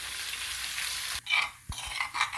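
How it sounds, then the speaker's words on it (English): Masala paste for a fish curry sautéing in a pan, a close steady sizzle broken by a couple of brief stirring scrapes, no voices. "you're just gonna like saute this masala paste"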